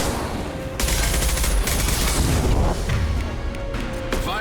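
Heavy gunfire in the video game Mass Effect 2 as a high-impact shot is fired, dense overlapping bursts and booms filling the clip, loud and continuous with no voices.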